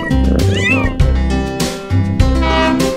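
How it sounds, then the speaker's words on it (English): Kittens meow loudly and close by, giving several rising and falling cries in quick succession over a soft, steady musical backing in a children's nursery rhyme song. "kittens"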